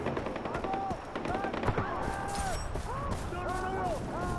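Bursts of rapid gunfire in Far Cry 4 repeat through the scene amid other game sounds, with voices talking over the shooting.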